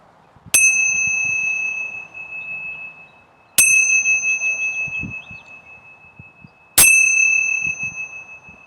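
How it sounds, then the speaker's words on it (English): A meditation bell rings three times at even intervals, each strike bright and clear with a long, slowly pulsing decay in a quiet room. "as I ring the bell"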